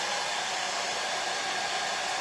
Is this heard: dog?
no